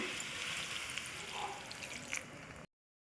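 Water pours steadily into a pan of brinjal and tomato curry, a soft continuous splashing hiss at low volume that runs for over two seconds and then stops abruptly.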